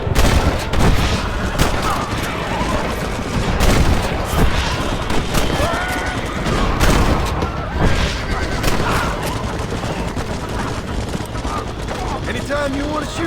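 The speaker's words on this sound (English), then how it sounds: "They're shooting right at me." Dense gunfire from a Red Dead Redemption shootout, loud rapid shots and booms overlapping in a continuous barrage, with voices talking underneath.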